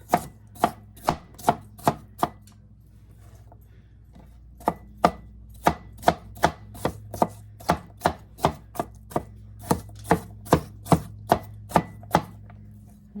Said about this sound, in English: And we're going to give these a rough chop.